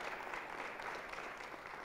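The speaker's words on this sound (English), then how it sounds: "Come on, clap in." Congregation clapping during a church sermon, a dense, steady wash of many hands applauding together throughout, with no talk over it.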